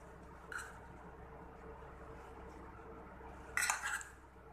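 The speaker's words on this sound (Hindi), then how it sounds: "धनिया पत्ता मिक्स करने के बाद इसे सर्विंग बाउल में निकाल लेते हैं" Potato and green fava bean curry scooped from a pan into a serving bowl, faint with two brief clinks of a utensil against the dishes, one soft and one louder near the end.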